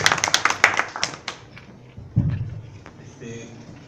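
A short burst of clapping from a small group at a regional workshop fades after a second or so, followed by a few thumps and quiet room noise.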